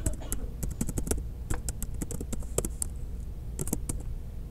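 Fingers type on a computer keyboard, tapping out a command in a quick, irregular run of crisp clicks and key presses close to the microphone.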